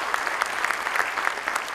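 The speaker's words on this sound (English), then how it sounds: "I really want you to applaud for them, big one" A crowd at a Sikh American Chamber of Commerce gala claps in brief, dense, steady applause, close and lively, with no voices over it.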